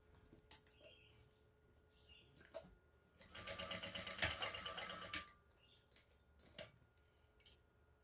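A sewing machine runs in one short, steady burst of rapid stitching as it bastes across the bottom edge of a shoulder bag, framed by quiet fabric handling and a few soft clicks before and after.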